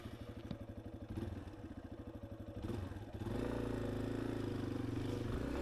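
A Yamaha XT250 motorcycle riding offroad on a muddy track in the Laurentian mountains on stock tires, its single-cylinder engine pulsing loud and close, then rising into a steady, harder drone as the throttle opens.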